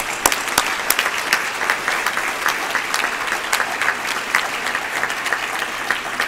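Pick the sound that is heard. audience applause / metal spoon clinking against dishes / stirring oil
audience applause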